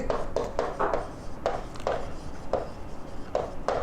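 Chalk or marker strokes on a board during a chemistry lesson on types of solids, landing as short scratchy taps in irregular bursts of two or three, close and distinct over faint room noise.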